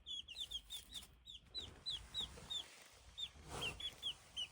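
Newly hatched Americana chicks peep in quick, high repeated chirps, close by and steady over a low rustling background, with no talk.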